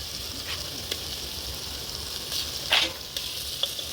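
Fish pieces going into a hot pan of fried ginger-garlic paste, tomatoes and green chillies for Nellore-style fish curry, a steady close sizzle with a few sharp clinks and a louder splash-like burst midway.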